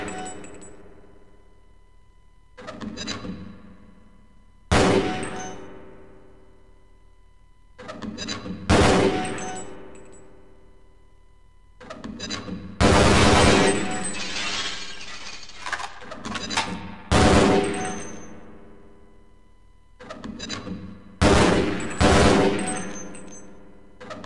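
A grenade launcher fires at training targets in Half-Life: Blue Shift, and each shot ends in a sharp, loud blast with shattering debris that rings out and decays. About eight separate explosions come at irregular intervals, some close together, with quiet gaps between them.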